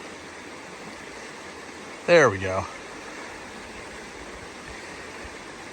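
Creek water with a little current flows steadily as a person wades across in rubber boots, making a constant rushing wash throughout, with a brief voice speaking midway.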